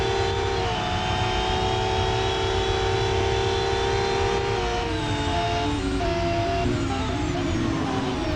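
Ferrari 599 GTO engine in a racing video game holds a loud, steady high-revving drone with shifting pitch through gear changes, close and continuous, no talk.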